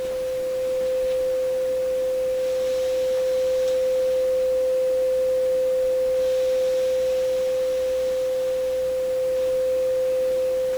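A steady, pure sine test tone plays continuously through a rotating Electrohome Acoustech speaker, holding one pitch at an even loudness throughout with faint room noise beneath and no talking.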